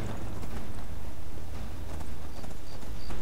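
A horse's hooves clip-clop in the video game Skyrim, a quick run of close hoofbeats over a steady background rumble, with no talking.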